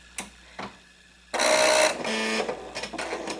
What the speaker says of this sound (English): turn on your sewing machine